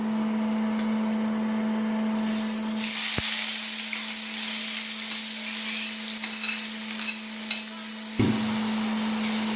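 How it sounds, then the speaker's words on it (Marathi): Loud hiss as onion hits hot oil in a wok, settling into a steady close sizzle with occasional clinks and stirs over a constant hum. "आपण कांदा घालून घेऊ फोडणीला"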